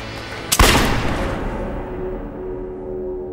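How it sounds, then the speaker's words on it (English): A single sharp gunshot from a Derringer pistol cracks out loudly, then a long booming echo rolls away and fades, with no voices. "Booth creeps into the presidential box and shoots Lincoln in the back of the head with a Derringer pistol."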